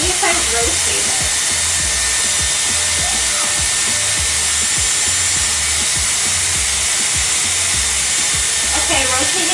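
A Dyson Airwrap hair styler blows hot air in a constant, loud, close whoosh with a steady motor hum throughout, heard alone with no talking.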